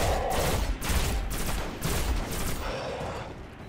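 Shotgun blasts from the video game Destiny fired at a Captain enemy, a dense run of loud booming shots with rumbling low end, several heavy reports landing close together before fading into a quieter tail.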